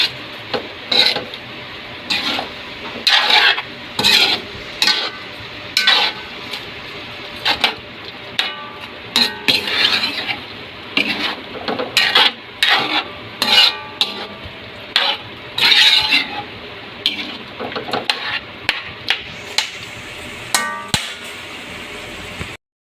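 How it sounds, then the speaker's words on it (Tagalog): Tinumis, a Filipino dish, is stirred in a pan: repeated bursts of scraping and clinking from the utensil against the pan, loud and close, broken by short pauses, with a faint sizzle beneath. "Tapos halo ulit."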